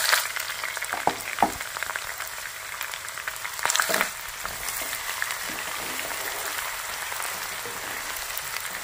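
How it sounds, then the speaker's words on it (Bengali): Garam masala and chopped onions fry in hot oil in a pan, a steady close sizzle broken by a few sharp crackles and stirring scrapes, with no voices. "গরম মশলাটা যখন এইভাবে ভাজা হয়ে যাবে তখন এর ভিতরে আমি পেঁয়াজ কুচি দিয়ে দেব।"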